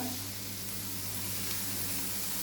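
A steady, even sizzle of chopped tomatoes frying in a hot pan, with a low hum underneath and no voices.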